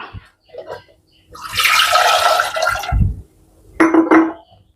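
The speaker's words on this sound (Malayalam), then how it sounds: "ഇതിലേക്ക് വെള്ളം ഒഴിക്കാം" Water is poured from close by into a pressure cooker holding eggs. A loud, sustained gushing pour runs for about a second and a half, followed by a shorter second splash.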